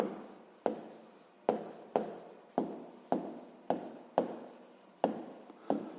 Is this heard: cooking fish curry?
no